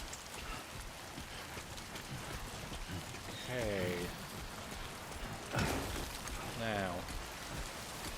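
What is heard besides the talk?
rain in the video game Death Stranding 2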